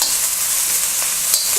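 Carrots and celery stir-frying in a hot pan for a Chinese vegetarian dish, a steady bright sizzle with faint scraping of stirring, loud and close, with no talking.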